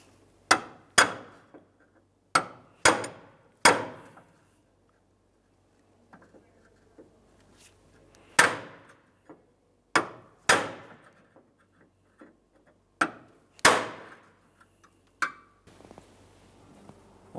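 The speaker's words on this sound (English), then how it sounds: "We'll continue on from up top and try to punch it down and out." Sharp hammer strikes drive a corrosion-stuck forward body mount bolt out from above on a 2003-2011 Mercury Grand Marquis, metal blows ringing in irregular pairs and singles with quiet gaps between them, close and loud with no talking.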